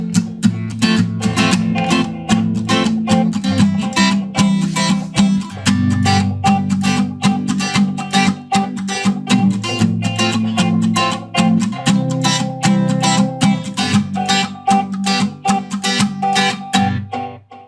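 A 12-string acoustic guitar run through a ToneWood amp echo effect plays a strummed, rhythmic pattern with dense chiming strings and repeating echoes, loud and continuous with no talking.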